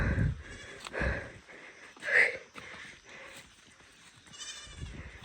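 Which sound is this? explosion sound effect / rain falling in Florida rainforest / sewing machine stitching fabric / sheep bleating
sheep bleating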